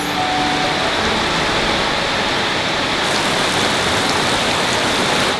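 Heavy rain pours down steadily at a rural homestead in Europe, a dense, constant hiss of drops hitting surfaces with no pauses or voices.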